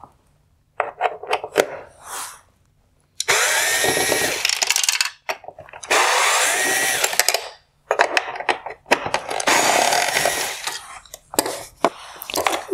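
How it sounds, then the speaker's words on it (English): A power driver backing T20 screws out of the inside projector mount of a 2015–2018 Mercedes-Benz CLS LED headlight, in several close, loud whirring bursts of one to two seconds, broken by short clicks, ratchet taps and brief pauses. "I'm going to remove the T20 screws holding on the inside projector mount"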